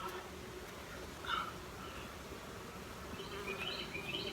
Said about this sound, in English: bees are packed in here for sure